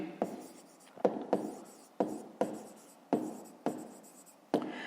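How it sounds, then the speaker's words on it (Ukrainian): Pen or pencil writing on paper during a fifth-grade maths exercise, heard as a series of close, distinct scratchy strokes, about seven in a row, each with a sharp onset, with no voices. "Пишемо відстані."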